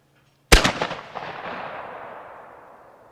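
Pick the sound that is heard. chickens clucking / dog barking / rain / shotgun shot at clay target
shotgun shot at clay target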